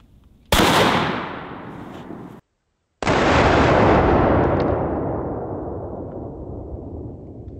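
Two loud close blasts from a sawed-off double-barrel shotgun firing double-aught buckshot, each a sharp crack with a long decaying roar, a brief silence between them.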